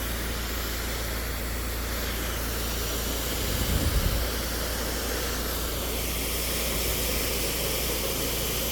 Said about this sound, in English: We'll spray what we can right here, and then we'll of course do the rest from the other end